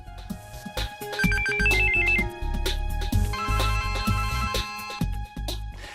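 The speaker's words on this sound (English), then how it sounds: "Martin Cooper made the first phone call from a mobile phone." A mobile phone ringtone plays a bright, melodic electronic tune of quick repeated notes, loud and continuous for several seconds with no other sounds.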